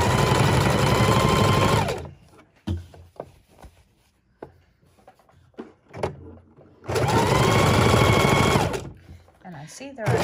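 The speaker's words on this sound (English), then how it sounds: "we're only sewing over two pieces of fabric, not three" A sewing machine stitches through two layers of fabric in two loud sustained bursts, with quieter clicks, handling noises and brief talk in the gap between them.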